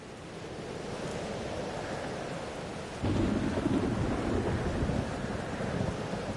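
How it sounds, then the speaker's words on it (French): A thunderstorm in the video game Life is Strange Double Exposure rolls as a steady hiss of rain with a deep rumble of thunder that swells suddenly midway and lingers, and no one talks. "La météo est pire que dans mon souvenir. La tempête m'a suivi."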